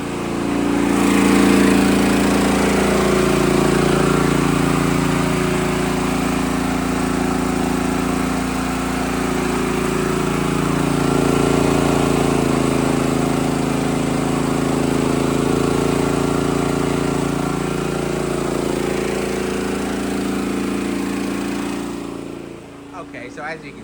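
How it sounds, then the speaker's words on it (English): Champion 8750W generator running on natural gas under a reduced 3,000-watt load, a steady droning engine hum that holds loud and close for over twenty seconds, easing slightly, before cutting off near the end. "So you probably heard the generator idle down a little bit more there."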